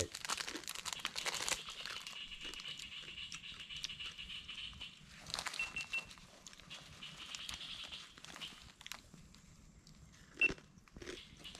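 Food being chewed and bitten outdoors in a forest, with crisp crunching and crinkling bites in bursts, close and moderately loud against quiet woodland background.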